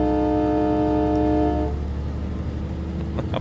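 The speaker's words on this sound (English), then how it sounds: "Air horn is awesome." A Freightliner Cascadia SCS truck's air horn blasts loud and steady with layered tones for about a second and a half, then cuts off, leaving a rumbling idle and road noise.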